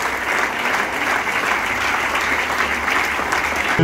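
A church congregation claps and cheers in worship, a dense, sustained roar of applause from a large crowd filling the whole stretch at high loudness.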